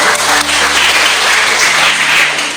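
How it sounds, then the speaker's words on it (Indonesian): Applause from a school farewell gathering honouring the children and their parents, a dense continuous wash of clapping that holds steady at close range and tapers slightly at the end. "Tepuk tangan buat semua orang."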